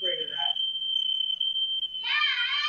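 A smoke detector alarm sounds one steady, piercing high-pitched tone in a live weather television studio. Voices are heard just before it and cut in loudly as it continues.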